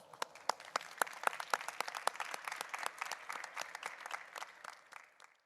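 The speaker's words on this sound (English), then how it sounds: "a round of applause for them" Audience applause after a CEO roundtable at a live IT-TRANS event in Karlsruhe: sparse, distinct claps that quickly thicken into a modest, fairly quiet round before fading out.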